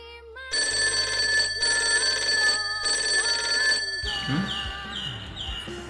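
A mobile phone rings with an incoming call, a steady electronic ringtone repeating in loud bursts separated by brief pauses, then shifting to a different chiming pattern partway through.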